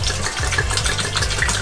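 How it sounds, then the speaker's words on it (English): Wine pours steadily into a frying pan with a continuous gurgling splash, close by, with no talking. "pour half the bottle into the frying pan"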